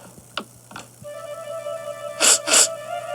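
A Strawberry Shortcake cartoon character sneezes twice in quick succession, loud and close, after a few light ticking taps.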